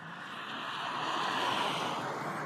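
Lectric XPremium mid-drive electric bike accelerating on throttle alone toward 20 mph, heard as a steady, gradually rising rush of motor whine and wind noise, close and continuous.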